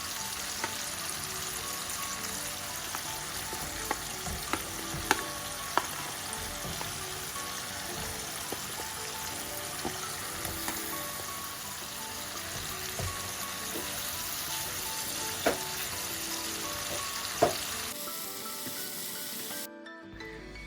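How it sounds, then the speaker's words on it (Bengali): Hilsa fish roe frying in a pan with spice paste and being stirred in, giving a steady, dense sizzle with scattered scraping clicks from the utensil. It continues for the whole stretch and thins out near the end, with no talking. "ডিমগুলোর সাথে মশলাটা খুব ভালোভাবে মিশিয়ে নিচ্ছি"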